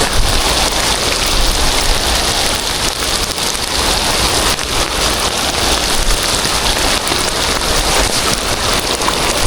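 Heavy rain pours steadily during net fishing, a loud, unbroken hiss of drops striking water and surfaces, with no voices.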